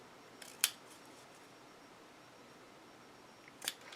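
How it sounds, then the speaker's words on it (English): Scissors snip paper along marked lines while a mini album is being made: two short, quiet cuts, the first near the start and the second near the end, with near-silence between. "when I cut this on those lines, I'm going to cut on the inside this way"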